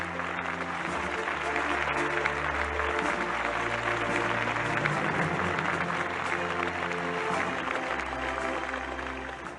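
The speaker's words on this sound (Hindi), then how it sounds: "तालियां लगातार बजती रहें" Sustained audience applause fills a government event in Sheopur, Madhya Pradesh, held for the Ladli Behna fund transfer. Steady, loud clapping runs throughout, with a low tonal hum or music underneath.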